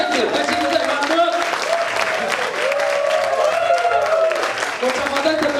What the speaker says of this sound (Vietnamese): Một tràng pháo tay thật lớn cho diễn giả chúng ta được không ạ?